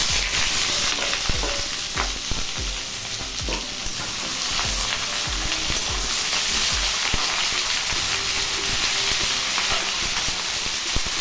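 Potatoes and onions stir-fry in a pan, a steady close sizzle with repeated scraping stirs of the spoon throughout, no voices.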